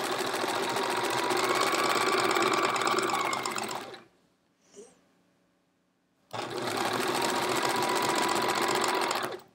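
An electric sewing machine stitches binding onto a hedgehog wall-hanging quilt in two loud, steady bursts of rapid mechanical whirring, broken by a short quiet pause with a faint click, heard close.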